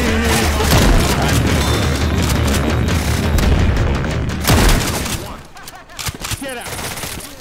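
A pipe bomb blows up in a video game amid loud, dense rapid gunfire and booming blasts that ease off near the end, with voices briefly heard.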